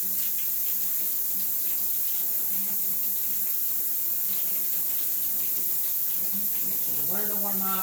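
A kitchen tap runs steadily as water warms up for activating yeast, a constant soft hiss of flowing water with faint background clatter and a brief voice-like tone near the end.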